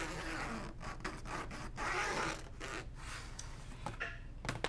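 A pencil drawn along a ruler on cross stitch fabric, soft scratchy rubbing strokes in short repeated passes, close and quiet.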